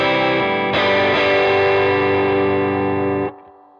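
A distorted electric guitar, a Squier 40th Anniversary Jazzmaster Gold Edition through an EarthQuaker Devices Plumes pedal, rings out a chord with a crunchy, effect-laden tone, sustaining for a few seconds before cutting off.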